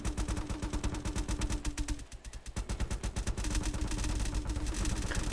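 Rapid, rhythmic bursts of heavy cannon fire in a video game pound continuously, with a short pause midway before the fast firing resumes, loud and mechanical.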